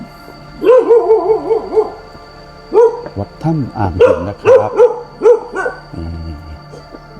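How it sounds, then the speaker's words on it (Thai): A dog barks in repeated bursts to greet visitors at Wat Tham Ang Hin, a cave temple in Dan Makham Tia, Kanchanaburi, Thailand. The barks are close and loud, with someone talking between and over them. "โอ้เราเจอน้องหมา เห่าต้อนรับ"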